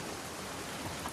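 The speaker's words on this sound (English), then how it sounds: "Let's get out of the rain." Rain in The Last of Us, a quiet steady hiss of falling drops spread evenly through a brief moment, with no distinct impacts or voices.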